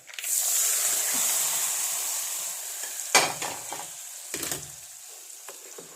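Boiling hot oil is poured into lemon pickle, giving a strong hissing sizzle that slowly fades, followed by a few scraping stirs of a utensil close by.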